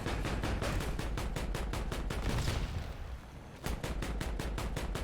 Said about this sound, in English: the sound of this cannon is amazing